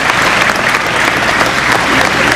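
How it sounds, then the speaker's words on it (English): An audience claps vigorously for church singers at an Honor Flight evening event, a loud, even wash of many hands with faint voices mixed in. "a big round of applause"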